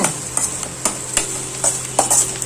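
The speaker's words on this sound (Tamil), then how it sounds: "கருக விடாமல் கிட்ட நின்று வதக்குங்க" Sliced onions sautéing in a pan for a tomato kuzhambu, a soft continuous sizzle marked by about eight sharp spatula scrapes and taps at irregular intervals, close and with no voices.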